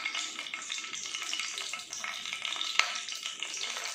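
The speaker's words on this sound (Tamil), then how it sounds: "கடுகு நல்லா பொருங்கிட்டுருக்கு" Mustard seeds spluttering in hot oil in a kadai, a soft continuous sizzle dotted with tiny pops and one sharper crackle, heard close and alone without talk.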